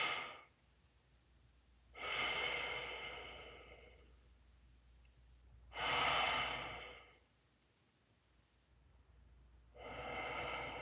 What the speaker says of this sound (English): swap it for 1 minute of deep breathing. Let's do that.